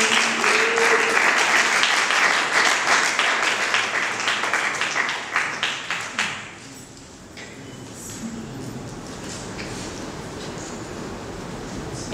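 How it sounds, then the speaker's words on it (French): An audience at a film presentation bursts into steady applause for about six seconds, then the clapping fades to sparse claps and a murmuring room for the rest. "Applaudissements pour Madame."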